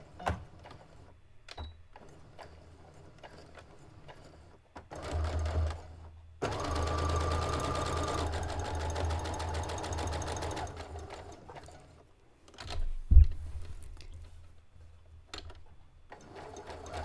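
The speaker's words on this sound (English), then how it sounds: "I'm going to stitch right to the corner and over a little bit just so that I have a pretty clean edge" Sewing machine stitching Legend of Zelda print fabric for a drawstring backpack, running a short burst and then a steady run of several seconds to the corner, with quiet handling sounds between the stitching bursts.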